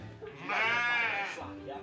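A spooked sheep stuck in a shaft lets out one long, wavering bleat, loud and close, rising and falling over about a second, with faint talk before and after.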